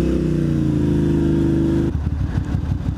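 A motorcycle engine runs steadily and loud for about two seconds, a low droning hum, then cuts to a rougher, choppy lower rumble as the ride continues on the road.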